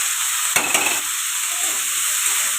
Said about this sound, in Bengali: এবার ভালো করে আমি কষাতে থাকছি।